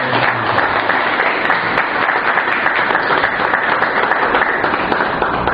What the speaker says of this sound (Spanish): al Espíritu Santo, démosle un fuerte aplauso de bienvenida